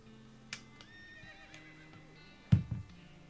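A horse neighs in the video game West of Loathing, a clear wavering whinny followed by a louder snort-like burst, with quiet background between, no talking.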